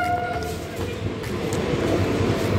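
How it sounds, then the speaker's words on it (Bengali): A through train rumbles past at a railway line, steady wheel and carriage noise filling the short stretch at moderate loudness, with faint voices in the background. "এখন এই থ্রু ট্রেনটা আসবে"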